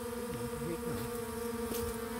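Bees buzzing around a hive during a honey harvest and colony rescue, a steady low drone with wavering pitches from individual insects flying close by, continuous and moderately loud with no voices.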